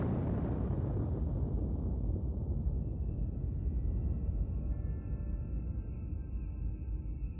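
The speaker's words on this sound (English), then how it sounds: "let's get the hell out of here before these nukes detonate." Nukes detonating in Alien: Dark Descent, a huge deep blast that rolls into a long, fading rumble, with a faint tonal hum lingering as it dies away.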